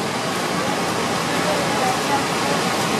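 Floodwater at Minnehaha Falls rushes below a footbridge with a loud, steady, broadband roar that fills the whole clip without letup.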